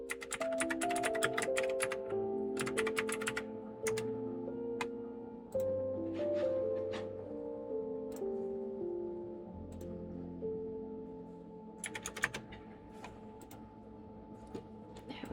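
Bursts of fast typing on a computer keyboard click over gentle music, with a quiet stretch of music alone in the middle.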